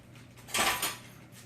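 Kitchen utensils clatter together as a whisk is pulled out, one brief jangling burst of metal pieces knocking against each other, close and fairly loud.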